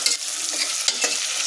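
Fenugreek seeds fry in a pan, giving a bright, crackling sizzle with a couple of quick stirring scrapes, close and steady over a brief moment without speech.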